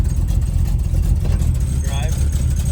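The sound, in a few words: Chevrolet K-10 truck engine idling with Turbo 350 transmission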